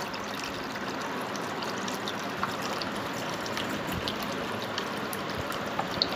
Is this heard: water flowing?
yes